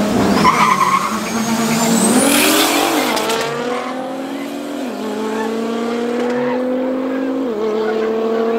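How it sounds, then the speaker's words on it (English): Powerful car engines rev hard and shift up through gears as a BMW Z3 and a Nissan GT-R accelerate side by side at a drag race, with a brief tire squeal early on, loud and close. "Z3 versus GTR again."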